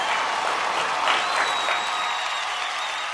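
A large audience at the TV9 Hemmeya Kannadathi 2023 event applauds the women being honoured, giving a steady, dense burst of clapping that stays at an even level and fades slightly toward the end.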